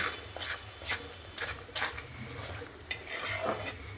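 Ginger, garlic and tomato paste masala frying in a pan for Bengali prawn malai curry, with repeated scraping stir strokes roughly every half second over a soft sizzle, close and moderately loud.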